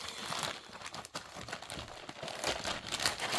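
A plastic bag crinkles and rustles continuously up close as a cross stitch kit is unpacked, with crisp crackling handling noises throughout.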